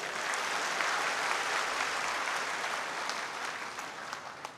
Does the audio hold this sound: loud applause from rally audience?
yes